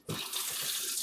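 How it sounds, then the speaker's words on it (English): Tap water runs steadily into a kitchen sink as containers are rinsed during salsa preparation, a continuous close hiss after a brief quiet start, with no talking. "So I'm rinsing these off as I go"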